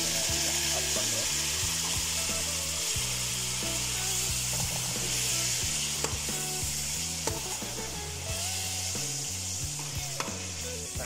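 Steady sizzling of chopped tomatoes frying with onions in a pan for tomato pulao, continuous and fairly loud, with occasional scrapes and clinks of stirring.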